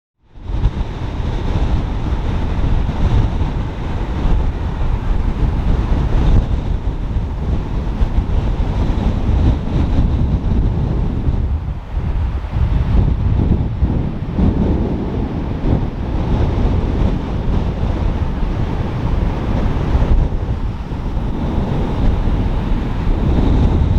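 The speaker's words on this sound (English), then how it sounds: "It's a very windy side here" Strong gusting wind buffets the microphone on the banks of the River Severn at Shepperdine, a loud continuous roar with surging gusts and no talk over it.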